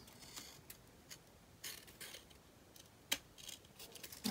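Scissors cut through paper while finishing an ink storage cabinet, giving quiet, sparse snips and crisp metallic clicks spread irregularly over a few seconds at close range.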